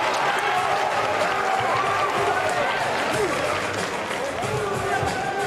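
A boxing arena crowd at the end of a round in Anthony Joshua's December 2020 knockout fight against Kubrat Pulev, with a steady, dense wash of crowd noise and scattered clapping that holds throughout.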